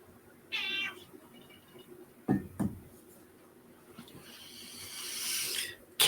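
Housecat meowing in a quiet room, a short mew followed by a longer drawn-out meow and a final sharp cry, close and fairly loud with light handling noise between calls.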